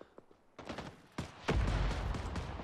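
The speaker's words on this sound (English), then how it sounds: "That's a grenade." A grenade in the Vietnam War shooter Rising Storm 2: Vietnam, heard amid scattered gunfire as a heavy low blast that leaves a sustained rumbling roar, fairly faint overall, with no talking.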